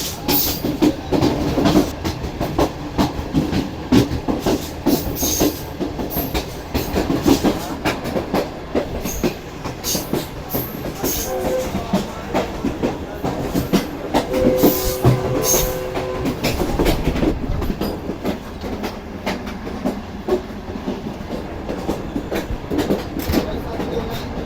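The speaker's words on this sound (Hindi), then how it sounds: "मेन लाइन 2 के ट्रेडिशनल ट्रैक साउंड के साथ ट्रेन हमारी आगे बढ़ रही है।" A safari train rolling along Main Line 2 track near the Jamshoro coal power plant, a continuous loud rumble with rhythmic clickety-clack of wheels over rail joints, heard from aboard the carriage, with faint voices now and then.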